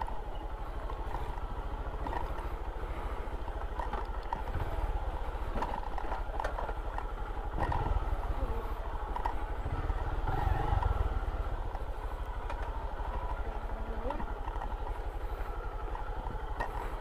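A motorcycle labours over a rocky mountain road to Barangay Kauswagan in Sogod, Southern Leyte, its engine a steady close drone with low thumps and surges as the bike bounces over stones, and no voices.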